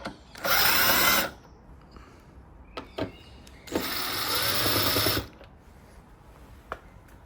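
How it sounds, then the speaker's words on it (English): A cordless driver removing T20 Torx screws from a 2019 Mini Cooper F55/F56 rear tail light cluster, heard as two close whirring bursts with small clicks and handling sounds between them. "That's a T20 there, and you remove the screws."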